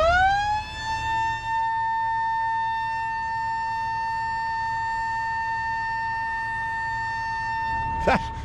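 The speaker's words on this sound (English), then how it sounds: "I love it when cows come running when you blow the siren." A loud siren blown to call cattle sounds a long, steady, sustained wail close by, holding one pitch before cutting off with a short rattling noise at the end.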